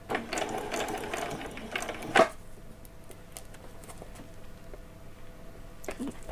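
A sewing machine runs over Halloween dress fabric in a short, slow burst of rapid stitching for about two seconds, then stops, leaving a quiet room with faint mechanical ticks.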